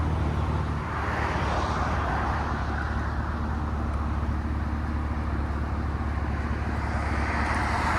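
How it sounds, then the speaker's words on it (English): A 2010 Chevy Camaro SS with a 6.2L V8 and Carven TR Series exhaust idles, a steady, even low rumble that holds unchanged throughout with no talking. "It's got a nice idle to it, it's not crazy loud."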